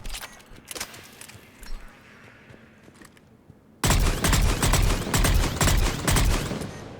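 Valkyrie rifle fire in Mass Effect 3 at long range: a few faint, scattered shots, then a sudden loud run of rapid, closely spaced bursts crackling one after another.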